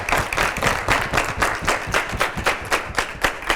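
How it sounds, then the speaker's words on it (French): A studio audience of students claps in a strong, rhythmic unison beat, loud and close, with regular pulses repeating about every quarter second throughout. "Nous allons la raccompagner sous des applaudissements"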